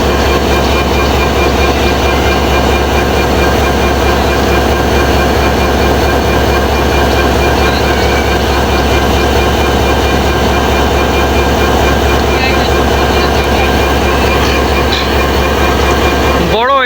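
A Bangladeshi train at Joydebpur railway station gives off a steady, loud rumble with a continuous low hum and mechanical drone that holds throughout, with no talk over it.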